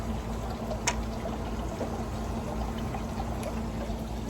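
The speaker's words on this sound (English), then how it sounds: "And there's a little filter system right there going." Fish tank filter system running with a steady watery rush and low hum, a continuous bubbling churn with a couple of faint ticks over the top.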